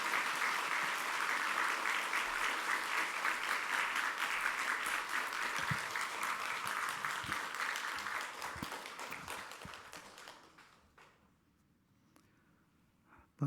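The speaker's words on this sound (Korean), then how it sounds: "하나님께 영광의 박수 함께 올려드리도록 하겠습니다" A church congregation at a Sunday morning service applauds the retired pastor, a full, steady wave of clapping that thins out and fades to near silence toward the end, with a few scattered claps.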